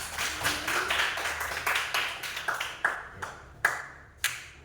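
A small group of students in a classroom clap for a presenting group. Separate, fairly close claps with a brief ringing ping follow in an uneven rhythm and thin out toward the end.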